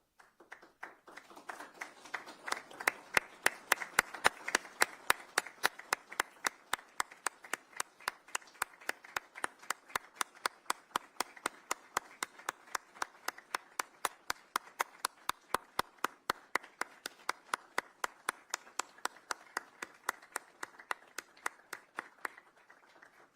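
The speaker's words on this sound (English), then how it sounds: "followed by a moment of applauding what she stood for" Applause from an audience at a policy briefing in tribute to the late Congresswoman Sheila Jackson Lee, starting as scattered claps, then settling into a steady, even rhythm of many clapping hands that lasts about twenty seconds before tapering off.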